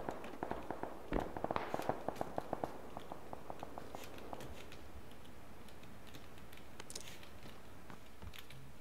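Rapid gunfire in a shooting video game, quick crackling shots in clustered bursts that are densest early and then thin out to scattered reports, fairly faint under a steady background.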